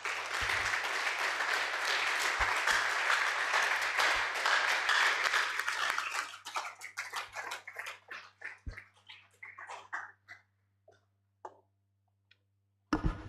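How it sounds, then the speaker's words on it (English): Audience applause fills a hall after a talk at an annual medical symposium and journal launch, dense clapping at first that thins into scattered claps before fading to silence. "Please, can we give him another round of applause?"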